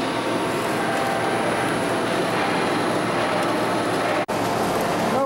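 A press crushing used oil filters runs steadily at 20 RPM, a loud, continuous mechanical drone and rumble close by, briefly cutting out near the end before resuming, with no talk.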